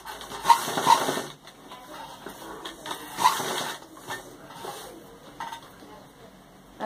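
Sewing machine stitching a round seam along a golden patch on a blouse back neckline, a steady mechanical whirr with rattling bursts, under someone talking throughout.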